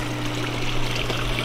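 Small garden waterfall feature with steady trickling, splashing water close by, alongside a low constant pump hum, no voices.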